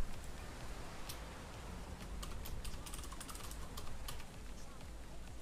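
Someone types a password on a computer keyboard, quick close key clicks in short bursts over a steady background hum.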